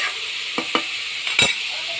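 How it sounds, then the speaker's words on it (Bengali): Radish bhaji with green chilies being stir-fried in a pan, heard up close as a constant hiss of frying oil with three or four quick spatula scrapes and no one speaking. "এইভাবে আমি ভালো করে আস্তে আস্তে নেড়ে চেড়ে ভাজি করে নেব, লাল লাল করে"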